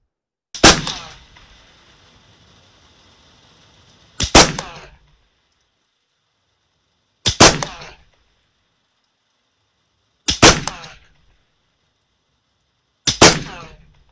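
Five sharp, loud suppressed shots from an AR-15 rifle fitted with a Radical Firearms integrally suppressed upper, fired outdoors at a range with a pause of about three seconds between each, every report ringing briefly before silence.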